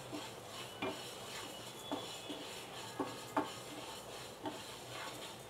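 Moong dal is fried and stirred in a preheated pan, giving faint, steady scraping with soft utensil taps recurring about once a second over a low background hiss.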